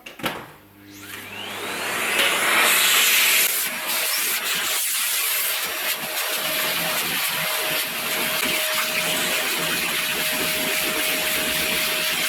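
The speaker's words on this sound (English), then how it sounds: "So I'll quickly turn on the vacuum, and we're just going to suck all that excess dust from here." A vacuum cleaner switches on and roars with a loud, steady hiss and whine, sucking dust off the exterior of an air conditioning unit, with a thin sustained tone running beneath.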